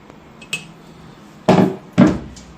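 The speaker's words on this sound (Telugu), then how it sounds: "ఇప్పుడు దీన్ని మొత్తం కలిపేసుకోవాలి." Idli batter of parboiled rice and urad dal is mixed by hand in a vessel, with a light knock followed by two louder, close, wet slapping strokes about half a second apart.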